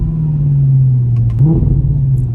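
A facelifted 2014 Audi R8 with a V8 engine drives along with a loud, low engine drone that holds steady, then briefly swells in pitch as it revs.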